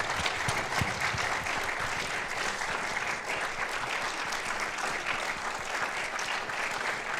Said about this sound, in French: je vous invite à remercier, à applaudir une fois de plus Anasuya et Konstantin pour leur travail